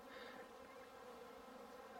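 Honeybees buzz steadily at a community feeder stand, a dense, even drone of many wings close by, continuous and moderately quiet throughout with no talking.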